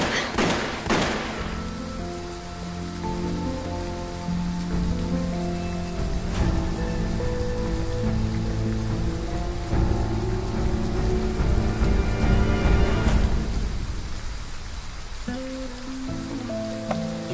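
Steady rainfall hisses beneath a swelling musical score, with a few sharp hits near the start and continuous rain patter throughout.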